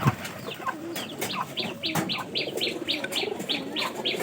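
Pigeons at a loft coo and chirp in a steady series of short, repeated calls, fairly close and clear, with no talking over them.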